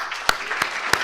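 An audience at an evening mining club event claps briefly, with a few sharp, distinct hand claps standing out over a light background of room noise.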